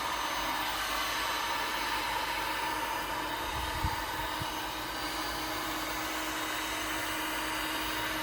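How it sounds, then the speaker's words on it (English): A heat gun warming a fiberglass shaft to loosen the glue behind tape, giving a steady, continuous blower whoosh and hiss at moderate level, alone without talk. "What this is doing with the heat gun is loosening up the glue behind this tape."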